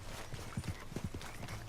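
Horse in the video game Red Dead Redemption 2: a quick run of soft clip-clopping hoof falls, moderately close, over a faint ambient bed with no whinny clearly standing out.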